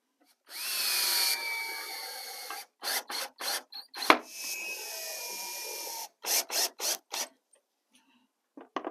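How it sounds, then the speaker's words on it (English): A power drill drives 1 1/4 inch drywall screws into wood. A sustained whir comes first, then a quick string of short stuttering bursts and a few more pulses, close and loud with no speech. "I am using screws, just some 1 1/4 inch drywall screws"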